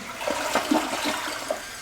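A cheap standard toilet fitted with a voice-controlled flush mechanism rushes and gurgles steadily with water, close and clear, with no talking over it.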